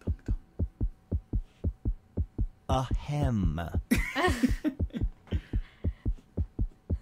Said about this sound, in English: Oh my god, that heartbeat, I thought I was hurting.